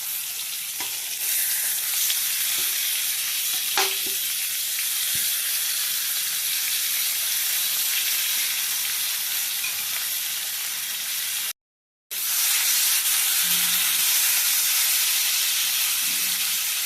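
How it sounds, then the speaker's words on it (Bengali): Spiced eggplant and hilsa fish fry in a wok with a loud, steady hiss and sizzle and a few stirring clinks. The sizzle drops out for a moment and then resumes. "এবার দিয়ে দেওয়া হচ্ছে মশলা মাখিয়ে রাখা বেগুন আর ইলিশ মাছ।"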